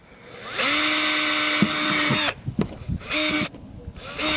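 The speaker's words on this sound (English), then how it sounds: "it still feels kind of weird drilling into a bumper" A power drill whines at a steady pitch, then runs in short bursts with pauses and grinding as it bores through a cracked plastic car bumper up close.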